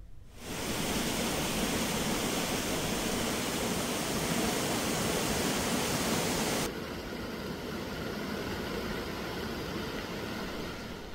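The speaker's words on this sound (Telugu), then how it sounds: "వంకలు పొంగి పొర్లుతున్నాయి" Floodwater from streams and brooks overflowing after heavy rain in an agency hill area, a dense, steady rushing roar that fills the whole clip, loud and continuous, easing slightly partway through.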